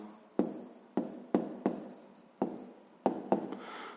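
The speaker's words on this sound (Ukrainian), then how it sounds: "Давайте запишемо послідовність." Pen or pencil scratching across paper while a number sequence for a fifth-grade maths exercise is written down by hand, in several short strokes with pauses between them, up close and with no talk.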